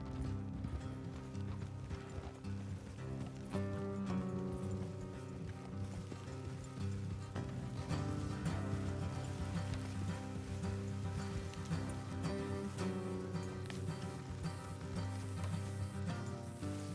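Horses' hooves clip-clop at a steady walking rhythm in Red Dead Redemption 2, a close, continuous patter over a quiet background of music and ambience with no talking.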